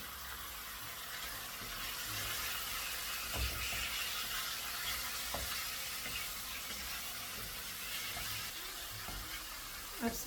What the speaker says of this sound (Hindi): अब इसमें डाल देती हूँ ये बोनलेस चिकन।